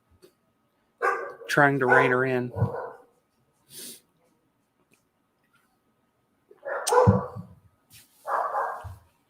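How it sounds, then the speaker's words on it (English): Dogs bark indoors in short, close, loud bursts, including a whining, wavering yowl, separated by pauses, with a person talking between the barks. "Apologize for the dogs, folks."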